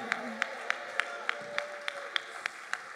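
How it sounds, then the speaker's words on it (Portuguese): A church congregation in Sorocaba applauds during a service, a series of about ten evenly timed, unison claps at a moderate distance, with a faint room murmur underneath. "Aplaude e glorifique ao Senhor."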